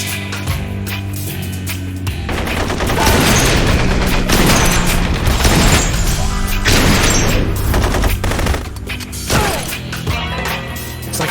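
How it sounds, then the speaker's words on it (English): Heavy gunfire from a big, cannon-like gun in the video game Blue Estate, loud rapid booming blasts in a dense barrage with crashing impacts, over game music. "It's like shooting a cannon."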